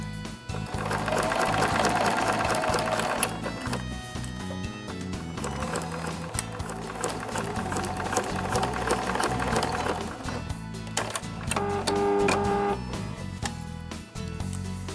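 A sewing machine runs a basting stitch to fix one side of a zipper to fabric, its steady mechanical whir continuing in close bursts with short pauses between runs.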